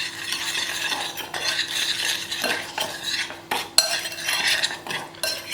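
A spoon scrapes and clinks against a bowl while stirring vanilla pudding powder with custard sugar, making close, irregular scratching and tapping with a few sharper knocks.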